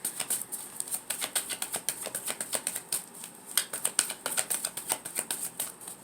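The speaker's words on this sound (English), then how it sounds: "Spend the whole damn reading shuffling." Tarot cards being shuffled by hand, giving a steady run of soft, close riffling clicks and flutters that repeat quickly and evenly throughout.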